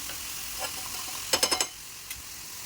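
A spoon scrapes and stirs tomato frying in hot oil in a pan for an egg masala, a quick run of four close scraping strokes over a faint steady sizzle, then one lighter stroke, with no talking.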